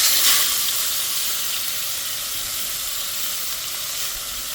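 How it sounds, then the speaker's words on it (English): Steady, loud sizzling from a ribeye steak's fat cap frying in a hot pan, a continuous bright crackling hiss with no talking. "This is going to smoke and sizzle, so be careful with that."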